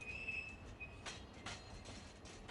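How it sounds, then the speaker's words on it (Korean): A train on the Alishan mountain railway in Taiwan nears a switchback point after passing through cedar forest, with a steady low rumble of rolling wagons and a thin, sustained wheel squeal early on, moderately close. "기차는 삼나무 숲을 빠져나와 곧 아리산 기차 수직 전진 지점에 도착한다."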